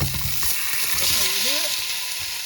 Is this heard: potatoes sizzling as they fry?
yes